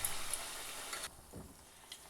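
Balls of leftover wheat roti dough dropped into hot oil, giving a steady broadband sizzle that drops in level midway as more pieces go in, with a soft stir or clink near the end.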